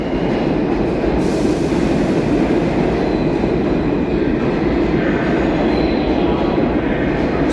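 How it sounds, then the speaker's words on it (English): A New York subway train at Queens Plaza station gives off a loud, continuous rumble with rattling wheels and a steady roar that fills the platform. It sounds close and dominates throughout, and a voice is faintly present. "Welcome to Thursday's evening night show here in the subway at Queens Plaza."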